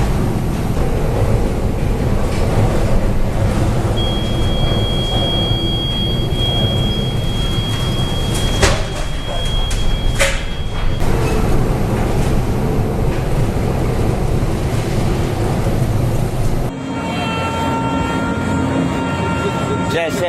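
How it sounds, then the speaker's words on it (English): Heavy seas pound a cargo ship during a force-12 storm off northern China, a dense loud roar of waves and wind buffeting that runs throughout, with a brief tonal whine partway and a sharp change in texture near the end. "A cargo ship is struggling with giant waves in the rough sea of northern China."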